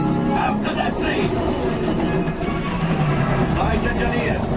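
A Disneyland park train rumbles past close by, a steady loud roar with rattling, filling the whole clip, while voices talk faintly underneath.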